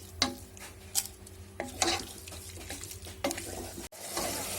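Yogurt is stirred into a banana flower biryani in a pan, with a few scraping stirs and soft sizzling that rise and fall, close and fairly quiet.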